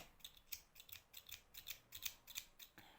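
Scissors snip knitting yarn while making two-needle knitted baby booties: about eight quiet, sharp metallic cuts in an uneven rhythm, faint and close.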